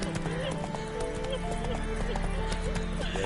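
Roach the horse gallops in The Witcher video game, a steady rapid clip-clop of hooves running under a busy mix of game music and effects, with a voice speaking over it throughout.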